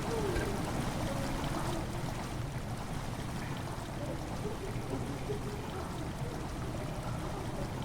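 Water flows steadily through a cistern in the horror video game Amnesia: The Dark Descent, a constant, moderately loud rushing and trickling wash that fills the whole clip without pause.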